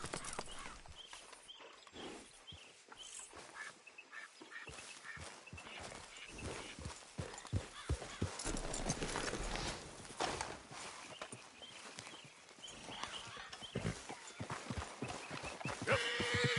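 Hooves clop over ground while a horse whinnies in Red Dead Redemption 2, moderately close, with irregular steps and game ambience underneath across the whole stretch.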